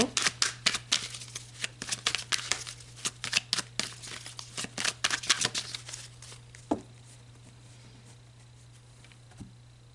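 Tarot cards shuffled by hand, a fast run of crisp papery riffles and slaps over several seconds that then slows to a few isolated taps, with a steady low hum beneath.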